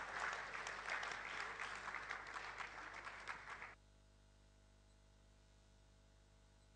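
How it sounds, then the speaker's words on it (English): Conference audience greets a chartered accountant speaker with a big round of applause, dense hall clapping that starts strong, thins slightly, then cuts off abruptly after nearly four seconds into quiet room hum. "let's welcome CA Surya with a big round of applause to share his thoughts on taming tomorrow's t"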